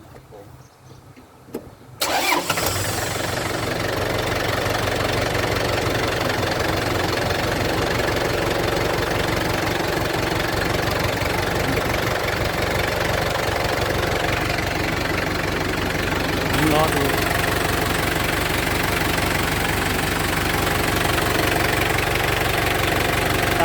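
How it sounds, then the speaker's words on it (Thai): A Yanmar 49 hp tractor engine, just refitted with a new seal, starts after a short quiet stretch and settles into a steady, loud, close-up diesel idle that continues without a break. "หรือจะติดเครื่องยนต์หมุนดูก็ได้นะครับ ว่ามัน ฝืดไปไหม"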